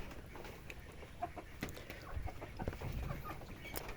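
Chickens clucking inside a coop for breeder hens, soft scattered clucks at moderate distance over steady low farmyard background, no talking.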